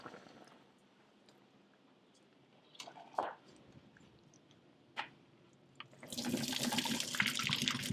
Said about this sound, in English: I'm going to turn the heat off, and then I'm going to drain off all the water